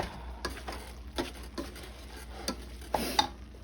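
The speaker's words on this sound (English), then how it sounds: "Mixing it up a little bit." A spoon stirs sloppy joe mixture in a pan, making a soft background sizzle. Intermittent scraping clicks of the utensil against the pan come at irregular intervals, close by and fairly quiet.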